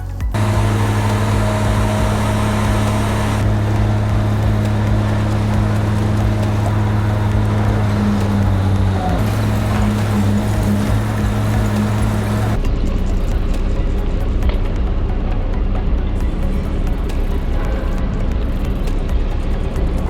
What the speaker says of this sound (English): now you've just seen all the waste getting shredded